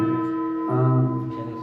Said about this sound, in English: The gong.